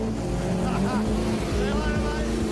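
Peter Brock's Holden A9X Torana driven hard around Bathurst, a loud, continuous engine drone with shifting pitch sweeps, heard from close by with talking mixed in.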